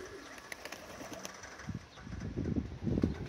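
Soft cooing from a hen pigeon and two young fancy flying pigeons in a loft, low murmuring calls that grow fuller toward the end with light fluttering and rustling around them.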